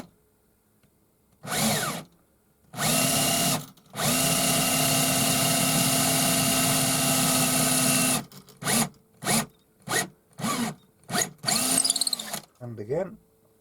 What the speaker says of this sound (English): That's an 8mm drill